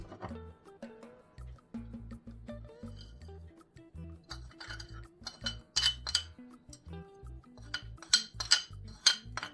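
A utensil stirs and scrapes a dry mixture of flour, baking powder and spices in a bowl, with repeated light clinks and taps against the sides, close and fairly quiet.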